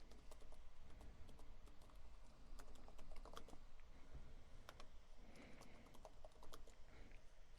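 Someone types steadily on a computer keyboard, the quiet keystrokes falling in an uneven rhythm over faint background hum. No one speaks.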